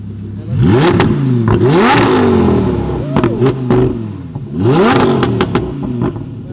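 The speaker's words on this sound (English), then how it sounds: "that V10 is screaming" An Audi R8 V10 MKII with an ARMYTRIX titanium Valvetronic exhaust, valves open, revs hard twice with a couple of smaller blips between. The screaming pulls are loud and close, and no one talks.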